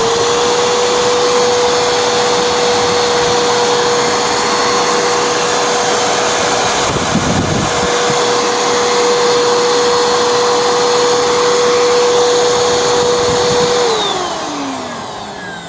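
A waterlogged Bissell Powerforce Helix upright vacuum with a 10 amp motor and no filtration runs with a loud, steady close-up motor whine and airflow roar, then winds down at the end.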